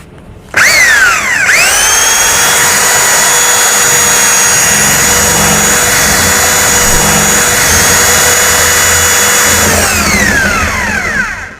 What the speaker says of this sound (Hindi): यहाँ पे ड्रिल पे हम लगा लेंगे। ये ड्रिल पे लग चुकी है, अब इसके अंदर होल करेंगे हम।